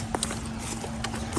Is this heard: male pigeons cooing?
no